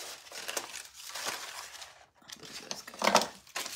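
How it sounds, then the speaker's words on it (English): Scissors cut through a paper stencil sheet along a grid line, with close crisp snips and crinkling paper in an uneven rhythm and a sharper burst near the end. "So we're going to cut right here on this grid line"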